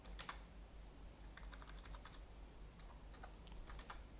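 Quiet, steady typing on a computer keyboard, with rapid irregular key clicks in short bursts and a faint background hum throughout.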